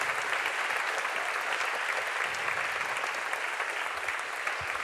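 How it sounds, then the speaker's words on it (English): Audience at a Cambridge Union debate applauding, dense continuous clapping from a large room held at an even level for several seconds, with no talk over it. "can you give Julia a round of applause?"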